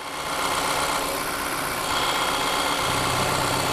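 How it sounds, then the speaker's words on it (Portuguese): A Volkswagen Tiguan engine idles steadily and evenly after a valve cover diaphragm replacement, a constant close hum with no talk over it. "Pode ver que a marcha lenta dele fica constante."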